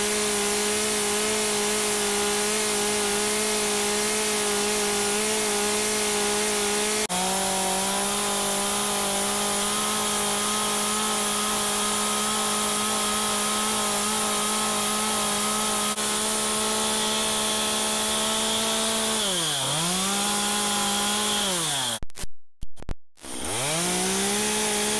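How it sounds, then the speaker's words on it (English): A chainsaw runs continuously at high revs while carving a wood spirit face, its loud buzzing whine holding steady before dipping as it bogs into the wood, then cutting out briefly near the end. "So you see what I'm doing there with the saw?"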